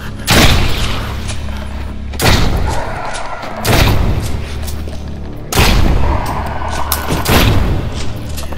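Gunfire in Propagation VR, a survival horror wave shooter played in virtual reality: a few loud, booming shots with long rumbling tails, spaced a couple of seconds apart, each swelling and then decaying.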